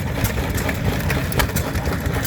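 An Amanco 2.5 horsepower stationary engine runs at an outdoor plough day, giving a steady low chugging rumble throughout with a faint rhythmic beat and no talking over it.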